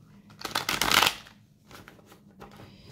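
A deck of tarot cards being shuffled by hand gives a close, crisp riffling flutter that swells and then fades, followed by a few softer shuffles and card taps.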